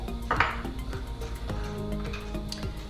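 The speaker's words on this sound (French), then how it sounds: "je vais mélanger ma fécule avec le curcuma" Starch being stirred with turmeric and water for a Chinese chicken and egg soup, a utensil clinking and scraping against a bowl in a steady close rhythm with a few sharper chinks.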